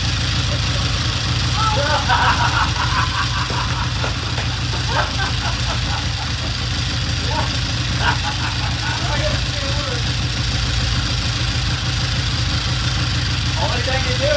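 A Triumph 350cc 3TA motorcycle engine runs steadily after starting, a continuous close mechanical idle with a rapid pulsing beat throughout, while people talk over it.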